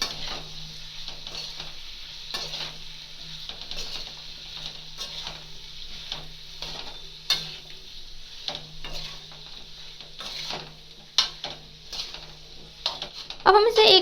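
Masala is stirred into carrot and radish pickle in a pan, giving a steady scraping and soft sizzle with occasional clinks of a spoon against metal, continuing evenly with a louder scrape at the end.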